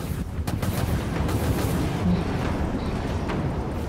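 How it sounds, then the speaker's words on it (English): Missiles launching aboard a warship in the video game Dreadnought, a dense continuous rumbling roar with a few sharper bursts layered through it, steady and moderately loud. "Launching missiles."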